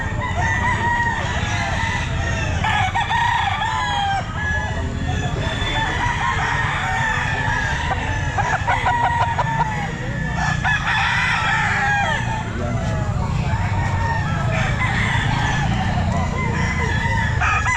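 Roosters crowing at the Grotto pet market on a rainy Sunday, repeated loud crows overlapping one another with clucking from many fowl and a dense market din behind.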